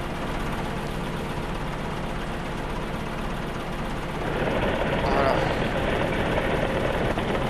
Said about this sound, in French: Alors là je veux que mon tracteur avance